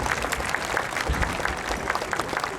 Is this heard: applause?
yes